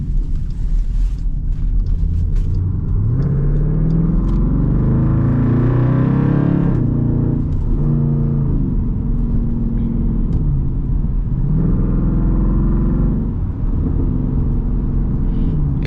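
Straight-piped Jeep SRT exhaust rumbles loudly and steadily while driving, with deep low growl swelling under revs around the middle and settling back, no talk over it.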